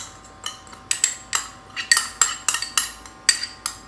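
A spoon clinks against a bowl while chicken is mixed with masala for marinating: a brisk, uneven run of about a dozen sharp metallic taps, close and clear, with no speech.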